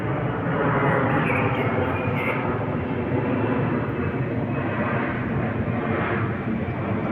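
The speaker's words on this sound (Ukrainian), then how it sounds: "Нічого йому не заважає, он літак летить." A fixed-wing airplane passes overhead on an evening outdoors, a steady loud broadband engine roar holding for the whole stretch with no voices over it.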